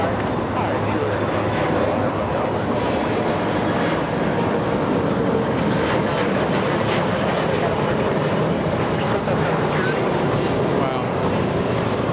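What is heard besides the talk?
British Airways A380 jet landing at LAX airport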